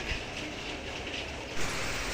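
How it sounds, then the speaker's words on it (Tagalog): Steady hiss of rain falling outdoors, even and broadband, with a slight surge in intensity near the end. "umuulan na po"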